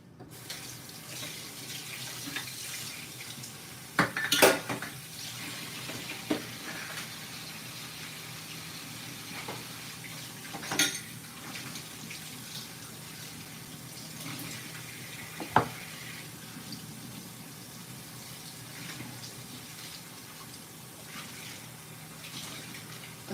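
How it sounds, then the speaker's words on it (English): Running water flows from a kitchen faucet into a sink while dishes are washed, a steady close rush broken by a few louder clatters and splashes of items being handled. "I'm just doing the dishes here because I want to wash a couple of things I've got in my sink."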